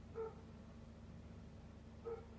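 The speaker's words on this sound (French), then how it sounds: "Ça, c'est ma chienne. Je ne sais pas si vous l'entendez." Pet dog, a female, giving two short, faint barks about two seconds apart, distant and quiet against a low steady background hum.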